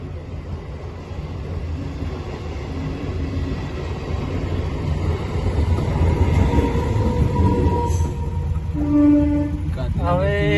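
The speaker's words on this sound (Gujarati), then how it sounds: "તો ટ્રેન આવી રહી છે તો ઊભા છીએ આપણે" An express train rumbles past at Gandhinagar, a loud sustained low roar of wheels and cars with a horn near the end, while people talk nearby.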